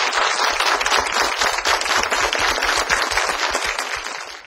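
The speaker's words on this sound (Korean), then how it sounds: "박수로 환영해 주세요." A studio audience at a Korean art lecture claps to welcome a guest speaker, dense continuous applause close and loud throughout, easing slightly at the end.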